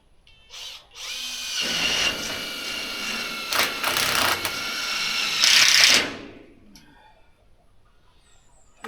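A power drill drives a screw into wood, a close high-pitched whine lasting several seconds with brief pauses and a strained final push before stopping.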